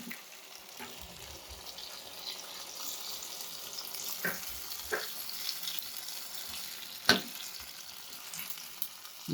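Tomato rice masala sizzles steadily in a pan, a constant frying hiss broken by a few sharper pops and clinks of stirring.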